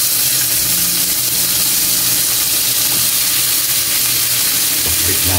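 Vegetables hit a hot pan with garlic and onion for pork pakbet, giving a loud, continuous close-up sizzle and hiss of frying with occasional stirring clatter.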